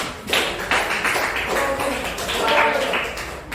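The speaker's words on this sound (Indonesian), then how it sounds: "Tepuk tangan untuk kelompok 6." Classroom applause for a student group as it gets up to present: dense, close clapping from many hands, sustained at a steady loud level with faint talk underneath.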